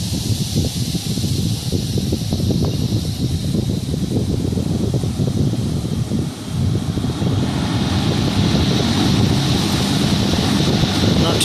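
A repaired 1960s McGraw Edison Toastmaster 5319 three-speed box fan, once frozen up, runs outdoors with a steady whooshing drone that is largely buried under continuous heavy wind noise on the microphone.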